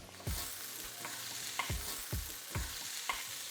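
Dal and onion mixture sautéed in a pan with salt, stirred with steady scraping strokes about every half second over a soft, continuous frying sizzle; close and moderately loud, no talking.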